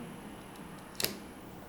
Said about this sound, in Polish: podniesienie wbudowanej lampy